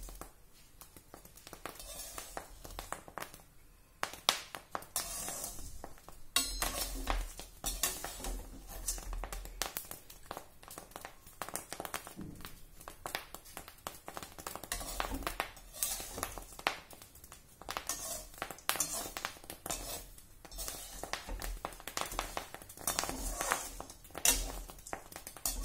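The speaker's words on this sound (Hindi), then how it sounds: "अच्छे भुन रहे हैं गेहूं, आवाज आ रही है इनमें से भुनने की" Wheat grains roasting in a pan while being stirred give a steady, faint crackle of dense tapping and popping that continues throughout without a break.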